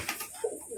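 A Jalali pigeon and a pet house pigeon coo softly as a pair, a brief, quiet, close call with no talk.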